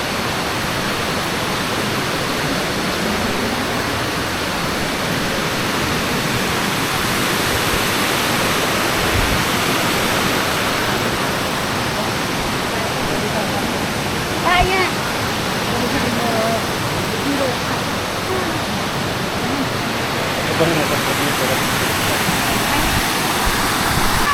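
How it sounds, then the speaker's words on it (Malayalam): The multi-tiered Kuang Si waterfall in Laos, seen at its third level near a footbridge, pours in a loud, unbroken roar of rushing water, with a voice talking faintly beneath it. "ഇതിപ്പോൾ മൂന്നാമത്തെ ലെവലിലുള്ള ഒരു വാട്ടർഫോളാണ്."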